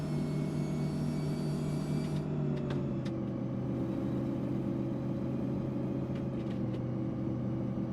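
A truck engine in American Truck Simulator drones loudly after a downshift, a steady mid-low rumble whose pitch dips slightly early on and then holds, with no talking over it.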